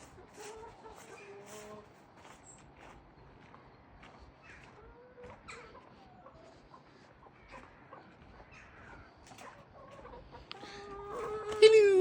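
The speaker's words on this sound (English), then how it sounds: "chickens!" Several chickens cluck and murmur softly at close range, with scattered squawks that rise into louder calls toward the end.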